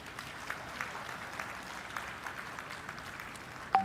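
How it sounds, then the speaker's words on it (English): Audience applause at an LG Electronics Bhumi Puja groundbreaking ceremony in Sri City: steady, moderately loud clapping throughout, swelling briefly at the very end. "a very big round of applause"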